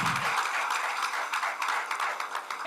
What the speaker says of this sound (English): Let's have a round of applause for jury members as well